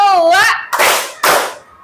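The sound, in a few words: children clapping hands in Simon says game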